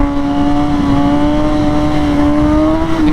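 A motorcycle accelerates in second gear at about 5,000 rpm and 45 mph into a clutch-up wheelie, its engine a loud, close, steady droning tone that climbs slightly in pitch over a few seconds.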